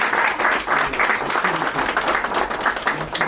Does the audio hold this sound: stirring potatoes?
no